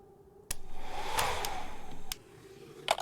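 Loud windstorm from a hair dryer in a snowman horror video game, a steady whooshing roar that rises at once and holds for about one and a half seconds before dropping off, with a few sharp clicks around it.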